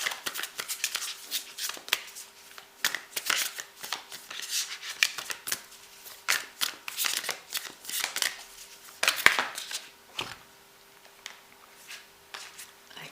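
A tarot deck is shuffled up close in bursts of quick papery riffles and soft slaps, repeated steadily and then tapering off near the end, with no voices.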